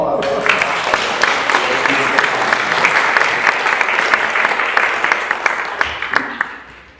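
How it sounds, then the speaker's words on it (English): Sustained round of applause from an audience at a Sunday spiritual center gathering, dense clapping throughout that tapers off near the end, with some voices mixed in. "That deserves one more round of applause."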